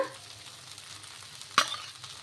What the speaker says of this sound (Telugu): ఇలా ఈ విధంగా నూనె వేసేసుకొని కాల్చుకోవడమే